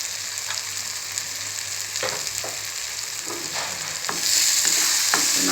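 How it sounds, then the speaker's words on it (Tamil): Masala for mushroom sukka sautéing in a pan, a steady close sizzle of frying spice with repeated scraping stirs of the spatula, growing a little louder near the end; no one talks. "நல்லா இதை வதக்கிக்கலாம்."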